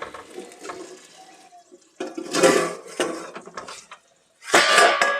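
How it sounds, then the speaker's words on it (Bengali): A metal lid is lifted off a cooking pot of simmering chicken curry spices, giving soft clanks and scrapes of cookware, with a few brief louder metallic bursts and quiet gaps between them, close by. "আমি ঢাকাটা খুলছি।"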